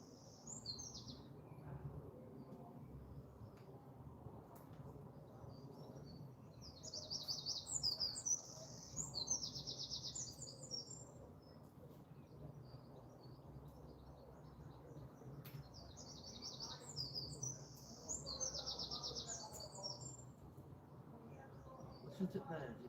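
Birds chirp and sing outdoors during a lawn renovation, their high twittering phrases arriving in a few separate bursts, faint and distant over a low background murmur, with people talking quietly at times.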